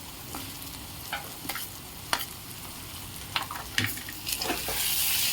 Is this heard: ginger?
yes